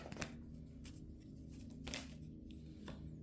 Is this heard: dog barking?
no